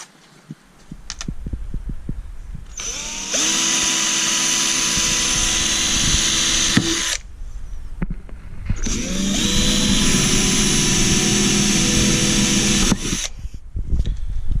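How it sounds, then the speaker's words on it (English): A power drill whines loudly while drilling a pilot hole, in two long bursts of several seconds each, with short quiet gaps and clicks between them. "then I'll follow up with a 5mm drill"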